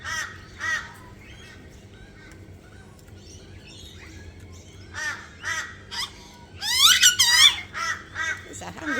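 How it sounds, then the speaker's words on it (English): Butcher birds feeding a hungry chick give harsh, caw-like calls and squeaky begging notes, a few spaced calls early, then a louder burst of overlapping squeals and chatter near the end, fairly close. "Little butcher bird."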